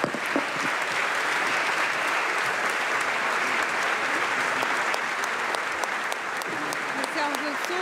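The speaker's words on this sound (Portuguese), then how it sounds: "Nesta altura consegue o aplauso de várias bancadas" Sustained applause fills a Portuguese parliament chamber during a solemn session marking 50 years since 25 November 1975, with dense, even clapping from many benches and a few voices heard faintly underneath.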